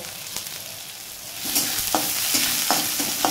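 Onion and two chilies frying in hot oil in a pan, a steady sizzle broken by a few scraping stirs, close and moderately loud with no talking.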